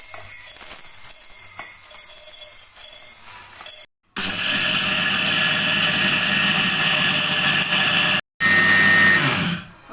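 Mixer grinder grinding roasted grated coconut and other ingredients for chittu urundai, a loud, steady whirring drone that runs in bursts with brief stops between them and winds down at the end.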